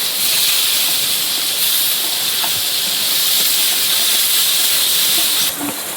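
Onion and whole spices sizzling in hot oil: a steady, loud broadband hiss of frying that continues without a break, with small crackles and pops scattered throughout. There is no talking.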